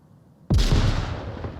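A grenade detonates in an online shooter match, one loud, close, sudden blast after half a second of near quiet, followed by a rumbling tail that slowly fades.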